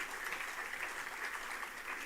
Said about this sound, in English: please join me once again in extending a warm round of applause to all our esteemed guests together